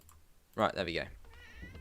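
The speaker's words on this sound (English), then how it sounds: "You can hear her meowing" A pet cat meows at a door in one short, rising call right after a person speaks briefly, close and clear over faint clicking.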